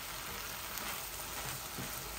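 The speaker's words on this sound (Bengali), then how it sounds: "আরো একটু ভাজা ভাজা করে নেই" Bottle gourd leaves fry in a pan for a fish curry, producing a continuous close crackling sizzle that stays steady throughout.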